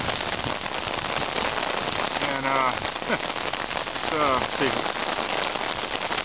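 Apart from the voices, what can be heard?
rain falling on flooded street at night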